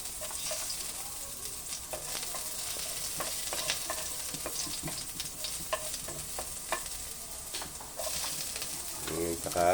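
Garlic sautéing in a pan for salmon sinigang, a soft continuous sizzle with frequent stirring knocks and scrapes, fairly quiet and close, with no speech.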